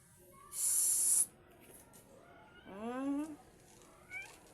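A cat meows once with a rising, wavering cry, then a shorter meow follows; a brief hiss-like burst comes earlier, quiet surroundings.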